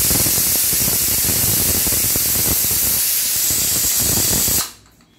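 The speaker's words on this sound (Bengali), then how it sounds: "এখানে সিটি মেরে দিয়েছে, এখানে আরো একটু সিটি হবে" Pressure cooker on a home stove cooking rice, venting a loud, continuous hiss of escaping steam up close that cuts off abruptly near the end.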